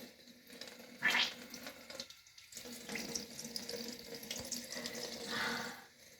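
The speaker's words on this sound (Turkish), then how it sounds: "Tamam hadi şimdi ağzımızı yıkayalım." Water runs from a bathroom tap into a sink while a child rinses his mouth after brushing his teeth, a steady close splashing flow with a brief louder burst, a short pause, then running water again.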